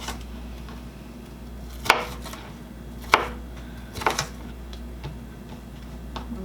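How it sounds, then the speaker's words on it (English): Several sharp knife chops on a cutting board, spaced a second or so apart, while big pieces of food are cut for spaghetti squash with meat sauce; close and fairly quiet with no talking. "I have lots more to cut because they're really big pieces"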